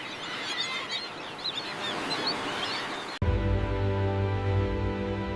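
Birds calling and honking, goose-like, over a busy outdoor background for about three seconds before an abrupt cut to a sustained tonal drone.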